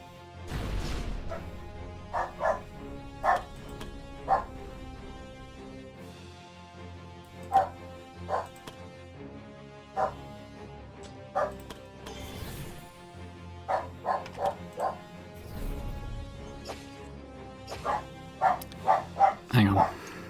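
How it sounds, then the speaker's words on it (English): An excited dog barks at a newly delivered poster in clusters of sharp, close barks and yips mixed with whimpers, with some talking alongside. "The poster arrived and my dog got very excited about it."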